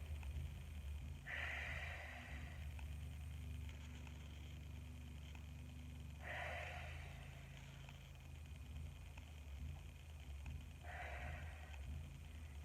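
Audible exhales through the mouth during a breathing and spinal rotation exercise, three soft breathy puffs spaced several seconds apart over a low steady background hum.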